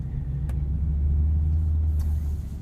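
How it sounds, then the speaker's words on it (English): A 2020 Chevrolet Corvette Stingray coupe in sport mode hums with a deep, steady low rumble from its active exhaust, close and continuous throughout. "We get the active exhaust in this car, and it sounds pretty good."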